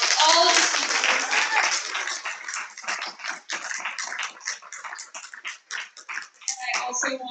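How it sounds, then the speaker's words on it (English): Audience applauding the speakers at a TEDx salon event, loud and dense at first, then thinning into uneven, scattered claps that fade before picking up again near the end. "So one more round of applause for all of the speakers."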